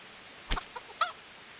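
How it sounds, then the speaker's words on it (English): Chickens in the medieval video game Kingdom Come: Deliverance let out a couple of short, faint clucks, quiet and somewhat distant against a soft background hush. "You were in my way as I was trying to pick up these 2 chickens."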